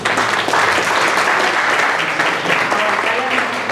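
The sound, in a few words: audience applause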